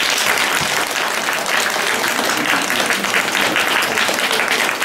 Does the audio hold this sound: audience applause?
yes